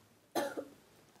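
A single short, fairly loud cough, close by, in an otherwise quiet room.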